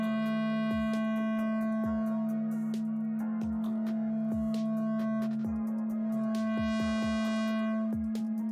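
A test oscillator's sine tone runs through a soft-clipping clipper plugin as a constant pitched hum with added harmonics. Sharp percussive thumps and tonal shifts sit loudly on top of it throughout.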